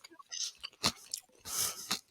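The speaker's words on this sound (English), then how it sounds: "I'm hearing you crunch too." Close chewing and crunching of crispy tofu croutons in a Caesar salad, a few moist crunchy bites and mouth sounds in quick succession.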